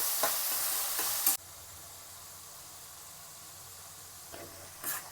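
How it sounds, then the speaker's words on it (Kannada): Chopped tomatoes are stirred and fried in a rasam tempering, a loud sizzle with scraping stirs at the start that drops to a quiet simmer, then brief stirring strokes return near the end. "ಎರಡು ಟೊಮೆಟೊ ಹಣ್ಣು ಸಣ್ಣದಾಗಿ ಹೆಚ್ಚಿಬಿಟ್ಟು ಇದಕ್ಕೆ ಇದನ್ನು ನಾನು ಬೆರೆಸ್ಕೊತಾ ಇದ್ದೀನಿ"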